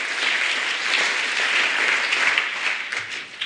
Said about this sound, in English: Give yourself a clap, please.